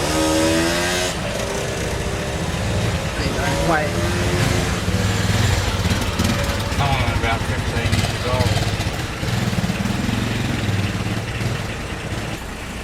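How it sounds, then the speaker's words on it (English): Motorbikes pass by one after another, engines rising and falling under steady traffic noise, while a person talks throughout. "Motorbikes just go past."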